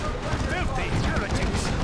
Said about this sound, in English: just a few more las cannon shots, and already, here's the Phobos dead.